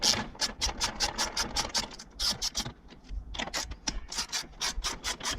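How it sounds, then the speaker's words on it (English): A 10mm ratchet wrench working a bolt on a Toyota Highlander during radiator replacement: rapid, close clicking pawl bursts repeated several times, with a brief pause midway, no talking. "A 10mm wrench, you get the one in the center."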